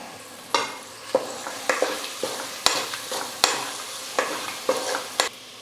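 Stirring onions and quartered tomato frying in a pan for coconut milk rice, with distinct rhythmic scraping strokes roughly every half second over a soft background sizzle.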